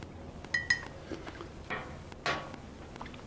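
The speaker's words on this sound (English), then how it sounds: "Let me go back to stirring my coffee with a chopstick" A chopstick stirs coffee in a cup, making a few sparse clinks and scrapes against the cup, close by and moderately quiet, with a short louder rub near the end.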